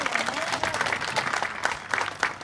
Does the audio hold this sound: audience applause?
yes